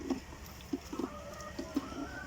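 Chickens in a coop cluck in short, quiet, repeated bursts, spaced irregularly with faint background hum and no speech.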